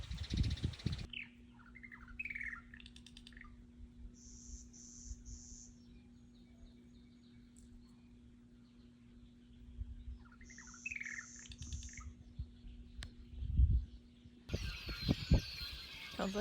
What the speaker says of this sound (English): That's just a little chickadee.